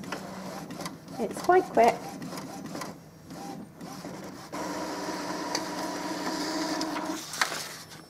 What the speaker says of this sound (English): This will start the nozzle print process.